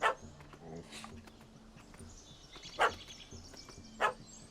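A dog in The Witcher III: Hearts of Stone gives three short, sharp barks spaced a second or more apart, fairly close, over a quiet game ambience with faint background sounds.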